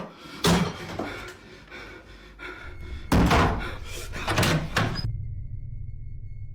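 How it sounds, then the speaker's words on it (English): Loud knocks and heavy bangs ring out in a bedroom, hard wooden thuds in two clusters with a brief gap, close and reverberant, then cutting to a low hum. "A knocking sound can be heard coming from his closet"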